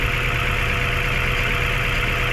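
A Mazda 3 after a top overhaul idling with heavy engine vibration: a loud, constant, rough mechanical drone with a low throbbing pulse, close up and uninterrupted.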